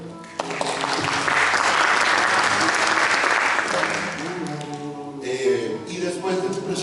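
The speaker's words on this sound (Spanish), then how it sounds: "Un aplauso, por favor." An audience at a Colombian rock history talk breaks into loud, sustained applause for several seconds, the clapping thinning out near the end as a voice starts speaking over it.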